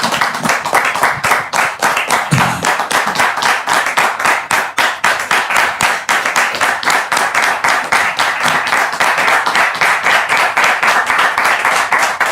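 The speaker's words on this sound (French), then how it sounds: "Public, merci de recevoir l'époux de Dame Mélissa sous vos applaudissements" A studio audience at a TV talk show applauds with steady, fast clapping that continues loud and unbroken throughout.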